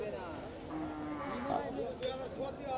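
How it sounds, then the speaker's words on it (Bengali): A red Sahiwal cow moos low and drawn-out against a busy background of voices and crowd noise at the Rajshahi City cattle market on a rainy day, fairly faint and somewhat distant. "এই গরুটা একটা লাল টকটকে শাহিওয়াল"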